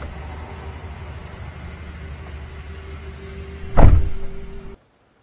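A coach's front door closes in Fernbus Coach Simulator, a brief burst of pneumatic hiss and a thud over a steady cabin hum, then the sound cuts to silence.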